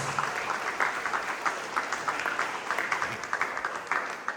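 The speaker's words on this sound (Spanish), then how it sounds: "Denle ese aplauso a la gloria de nuestro Dios." A church congregation applauds at a Spanish-language service, a fairly faint, steady spread of many hands clapping for several seconds with no talk over it.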